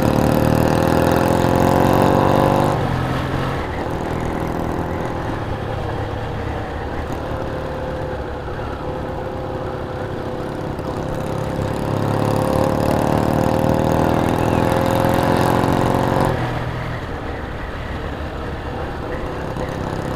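Old British motorcycles, a BSA, Norton and Triumph, idle together on a ride-out, with a steady close engine rumble that swells and drops as throttles are blipped, and no voices.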